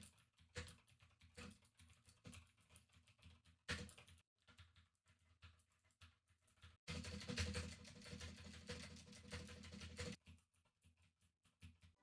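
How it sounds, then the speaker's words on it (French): Typing on a computer keyboard is picked up through a Presonus PD-70 microphone with a noise gate, a quiet patter of keystrokes in bursts with a denser, louder run of rapid typing partway through. "je vais retaper sur le clavier et voir si oui ou non le noise gate est assez efficace ou pas"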